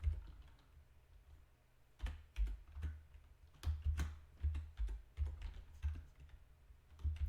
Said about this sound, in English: there's not much more to this than just typing this information in carefully